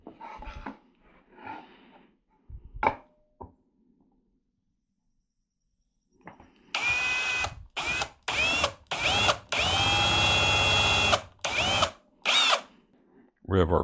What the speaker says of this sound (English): We have our pilot holes drilled.